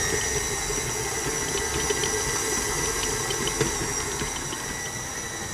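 Stand mixer kneading focaccia dough on third speed, a steady motor whir with hiss and faint rhythmic slapping from the bowl, continuous and even, with no voices.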